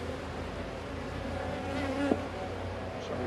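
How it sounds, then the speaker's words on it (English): A large honeybee drone stuck near a hive during spring colony splitting, its steady close buzzing hum continuing throughout with no voices. "Big old fatty drone stuck up here,"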